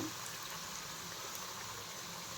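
A crispy evening snack frying in hot oil, giving a faint, steady bubbling sizzle that runs without pause.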